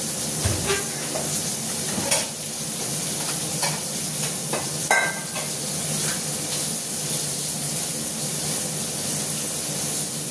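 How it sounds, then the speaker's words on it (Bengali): Whole cumin seeds and bay leaves tempered in hot oil in a pan that already holds a hilsa fish head, giving a steady close sizzle and hiss broken by stirring scrapes and a few crackles. "এবার এর মধ্যে আমি গোটা জিরে আর তেজপাতা ফোড়ন দেবো কচুর শাক বসানোর জন্য"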